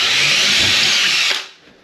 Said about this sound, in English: Now we're gonna drill a hole here where I marked it